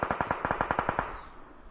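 Rapid automatic gunfire from a battle royale video game crackles in a steady burst of about a dozen evenly spaced shots, then cuts off and leaves a brief echoing tail.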